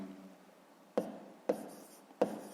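Pen on paper for a fifth-grade math exercise, soft scratchy strokes with three sharp taps as the pen lands, close and quiet.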